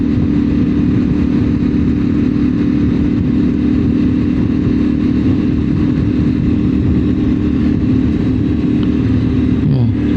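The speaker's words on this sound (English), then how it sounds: "I like the burble this got as well." A CF Moto 450 MT motorcycle engine burbling at a steady throb, continuous and loud with wind rush while riding, and a voice talking over it.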